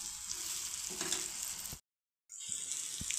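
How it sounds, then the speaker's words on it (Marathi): Okra tossed into spiced oil for masala bhindi fries with a steady broadband sizzle and stirring scrapes, cut by a short silent gap near the middle before the crackle resumes. "मसाले थोडेसे परतले गेले, आता भेंडी घालून घेऊ आपण। मिक्स करून घेऊ व्यवस्थित।"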